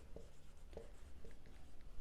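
Chalk or marker writing on a board during a class 6 maths lesson on decimal fractions, a faint series of short scratchy strokes at an uneven rhythm, close and quiet with no talking.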